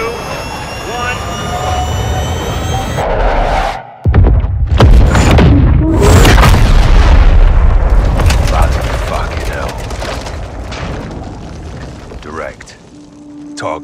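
A Call of Duty: Modern Warfare II airstrike lands after jet engine roar: a loud, deep booming explosion with heavy low rumble and debris crackle that stays intense for several seconds before fading, with game radio voices over it.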